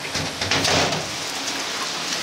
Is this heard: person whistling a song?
no